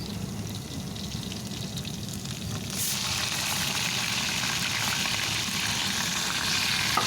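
Ginger garlic paste hits hot oil in a pan for chana pulao, and a steady sizzle jumps to a louder, brighter continuous frying hiss that keeps going without pause.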